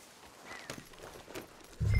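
Horses' hooves clip-clopping in the Red Dead Redemption video game, a few soft, irregular hoof knocks at a walking pace, faint and close, followed by a sudden low thump at the end.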